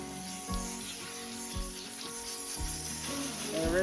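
Steady spray of water rinsing a dog during a bath, a continuous hiss running throughout with soft thumps and splashes from the dog shifting about, close and moderately loud with no talking.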